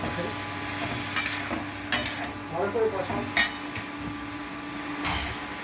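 Curry with garam masala sautéed in a pan: a low sizzle runs under a handful of sharp metallic clinks and scrapes of a spoon against the pan, close by, with faint voice underneath.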